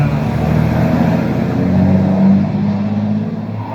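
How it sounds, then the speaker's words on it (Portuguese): Trucks pass along a city avenue, a steady loud road rumble that swells and fades slightly as the vehicles go by, with no talk over it. "o barulho aqui tá os caminhões passando aqui na avenida"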